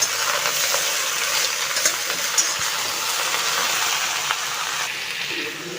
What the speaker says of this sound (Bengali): দেখো আমার তো পটলটা ভাজা হয়ে গেছে